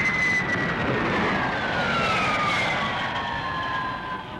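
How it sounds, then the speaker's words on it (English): A de Havilland Comet jet airliner passes overhead at an air show, a loud, steady jet roar with a slowly falling whine, sustained throughout without talk. "the world-famous long-range jet airliner de Havilland Comet has a cruising speed of 490 miles an hour"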